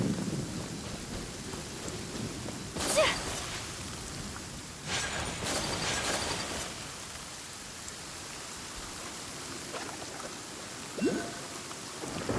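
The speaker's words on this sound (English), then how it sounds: "Let us find shelter from the rain." Steady rain falls with a constant hiss, broken by several sharp bursts and rumbles of thunder, heard alone without any talking.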